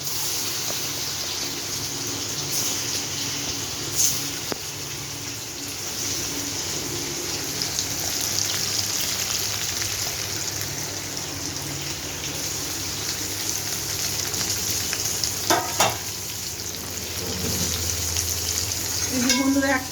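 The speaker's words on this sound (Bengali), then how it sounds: "এবার দুবারে করলাম, দুবারে ভেজে নিলাম" Paneer pieces fry in a pan in two batches, giving a steady broadband sizzle throughout with occasional louder crackles and brief clatters near the end, no voices.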